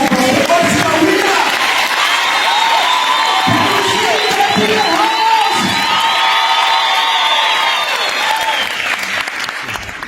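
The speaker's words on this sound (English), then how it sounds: "can we just have a round of applause?" A loud crowd at a memorial service applauds and cheers continuously, with whoops and raised voices mixed into the dense clapping throughout.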